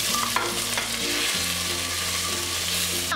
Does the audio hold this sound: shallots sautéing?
yes